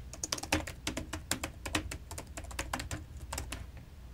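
A password is typed on a computer keyboard, a quick, irregular run of close, crisp key clicks lasting a few seconds with no talking.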